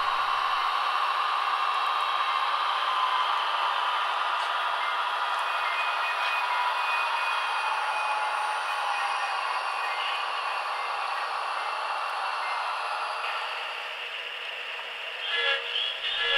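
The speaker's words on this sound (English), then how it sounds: "The engines from the intermodal train now pull onto the fueling tracks" Model train engines from an intermodal train, Santa Fe and Rio Grande, roll onto the fueling tracks of a layout yard with a steady, even whirring hum and a faint high whine, ending in a few light clicks.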